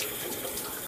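Shower water runs in a brief, steady hiss of spray that cuts off abruptly at the end.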